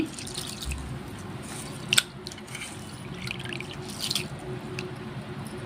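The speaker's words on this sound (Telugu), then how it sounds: "కడగాలండి ఇవన్నీ కడిగి నానబెట్టుకోవాలి" Soaked lentils and grains being washed in water for mutton haleem, with soft drips, light splashes and a couple of sharper water sounds over a quiet kitchen background.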